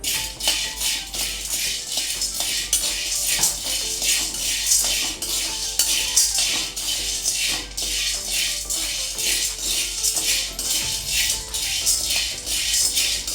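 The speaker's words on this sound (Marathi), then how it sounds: "आता आपण यामध्ये वाटाणा भाजून घेऊ वाटाणा आणि हरभरी एकदम भाजून घेऊया" Peas and green chickpeas dry-roasting in a pan, with a steady dense rattling and scraping of legumes and utensil against metal, close and continuous, with no voices.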